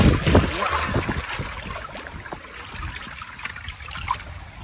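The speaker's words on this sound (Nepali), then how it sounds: "यस्तो पानी आएको छ माथिबाट कौसीको पानी" Rainwater pouring down from a roof terrace during heavy rain in Kathmandu, a close, continuous splashing and trickling with irregular gurgles and drips, fairly loud throughout.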